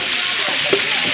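Duck pieces frying in a pan during the cooking of duck with banana, a steady close sizzle with a few soft stirring scrapes and one brief pop near the middle.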